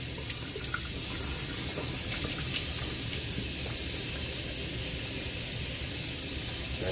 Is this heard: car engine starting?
no